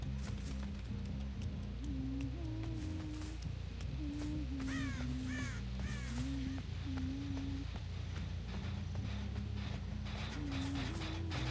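Repeated harsh crow caws in short bursts sound through a droning, low in-game ambience of the horror game Dead by Daylight, with scattered clicks and no voices.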